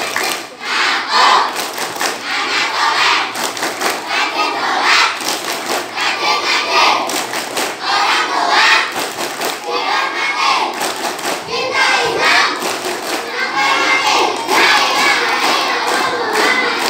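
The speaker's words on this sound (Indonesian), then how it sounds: "mari kita tepuk bersama. Tepuk anak soleh." A group of schoolchildren performs the Tepuk Anak Soleh clapping chant during school orientation, loud rhythmic hand claps under energetic shouted chanting that continues for the whole stretch.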